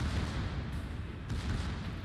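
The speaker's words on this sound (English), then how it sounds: "Here's the Moskva shooting him." Naval gunfire from the Moskva battleship in a World of Warships tournament match: dense, continuous low booming and rumbling salvos with no clear gaps, loud throughout.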